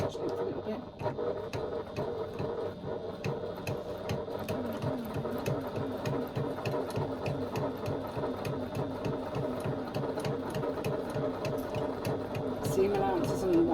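A sewing machine stitches around the top of a bag at a shortened stitch length, its steady, fast rhythmic whirring running close and continuous for the whole stretch.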